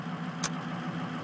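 A 2008 Ford E-450 Super Duty box truck engine idles with a low, steady hum in cold weather, constant and moderately loud, broken by one brief hiss.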